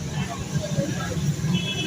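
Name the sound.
road traffic noise outside a roadside bicycle repair shop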